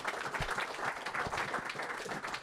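An audience at a live rugby talk evening breaks into sustained applause, a dense crowd of clapping hands rolling on evenly for the whole stretch.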